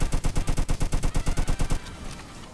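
Rapid automatic gunfire in the Roblox game Jailbreak, a loud close burst of about fourteen evenly spaced shots that stops abruptly and leaves a faint tail of ambience.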